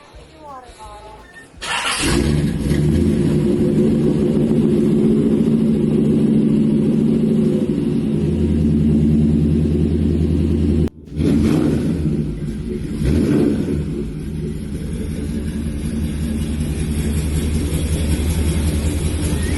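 A 1937 Plymouth sedan pro street car's engine fires up and runs loud and steady close by, with a brief cut and then renewed rumbling revs; a voice speaks over the engine.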